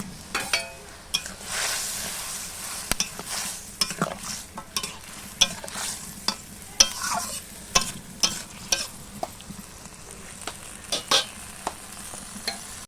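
Puti (pool barb) fish cooking in a watery spice paste for chachchari gives a low bubbling sizzle, punctuated by frequent sharp scrapes and knocks of a spatula stirring in an irregular rhythm, close by and without speech.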